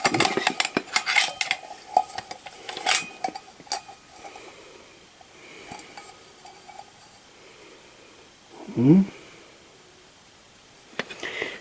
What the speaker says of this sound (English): what I got here is my Stanley, see? My Stanley Cup.